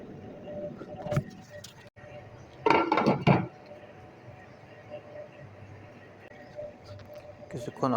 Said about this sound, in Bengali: ভালো করে ঢাকনাটা ঢেকে দেবো